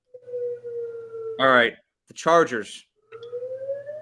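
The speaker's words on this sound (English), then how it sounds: "I hear that siren." Tornado siren wailing in steady, rising tones during a severe-weather warning, heard nearby and loud between bursts of casual conversation that briefly cover it.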